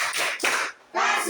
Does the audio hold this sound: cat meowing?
no